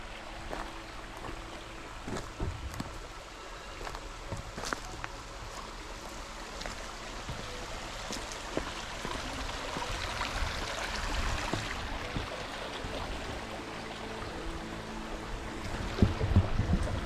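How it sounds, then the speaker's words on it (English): A creek at a rain-soaked campground in the Ouachita Mountains flows with a constant soft rushing and babbling, steady throughout and growing slightly fuller toward the end, with no talking. "Look at this creek."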